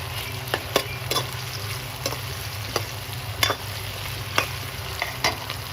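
Chopped tomato and small potato pieces frying for sambar, with a steady close sizzle under sharp scraping stirs of a spoon against the pan at irregular intervals; no one speaks.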